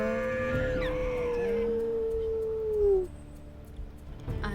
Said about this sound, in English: we're gonna howl to mark this carcass